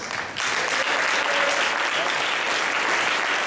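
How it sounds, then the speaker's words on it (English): An audience claps at a poetry reading, dense steady applause that starts after a brief quieter moment and carries on evenly to the end. "How about some claps?"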